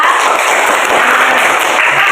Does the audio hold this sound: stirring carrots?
no